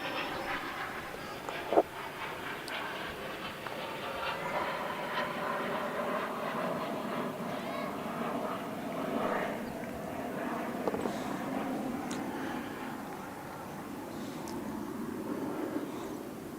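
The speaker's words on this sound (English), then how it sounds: "you might hear some planes flying over us" Airplanes pass overhead near airports during an outdoor T20 cricket championship final, a steady broad roar running throughout under faint ambient noise, with one sharp knock early on.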